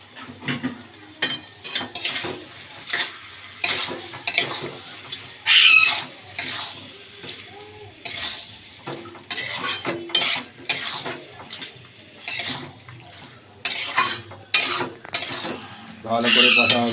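Chicken is stirred and fried down in a pan for a Bengali chicken kosha, a metal spatula knocking and scraping the pan in loud, irregular clanks with short pauses between bursts.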